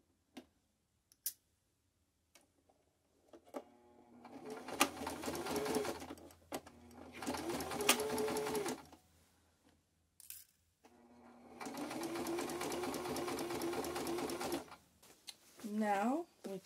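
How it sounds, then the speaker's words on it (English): A sewing machine stitches the seams of a corset mockup in two long, rapid, ticking runs, close and clear, with scattered clicks and quiet gaps between them. "Now I can sew down these other seams."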